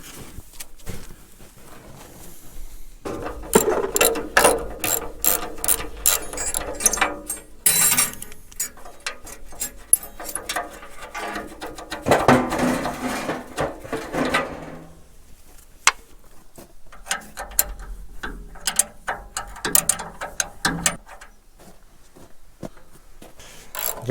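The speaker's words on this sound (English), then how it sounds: "Got the last bolt on the bottom to take out." Ratchet clicking as bolts are worked loose from the radiator of a Caterpillar 212 grader, bursts of mechanical ratcheting with metallic rattles and pauses, fairly close, no talk.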